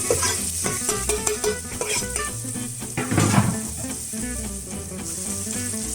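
Vegetables searing and sizzling in olive oil in a pan while being stirred, with busy crackle and scraping clatter of a utensil against the pan throughout, close and steady with one louder burst midway.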